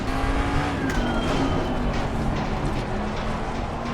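A 550 hp Mustang GT3 race car engine hums and revs at moderate distance while tires hiss, with a brief rising pitch as it works through a corner; no talking.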